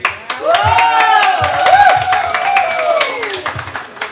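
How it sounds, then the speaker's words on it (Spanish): Audience at a Don Quijote storytelling show at a book fair claps in loud, uneven bursts while someone whoops and cheers over it with a long rising and falling vocal call. "ahora reciban con un fuerte aplauso a Lice."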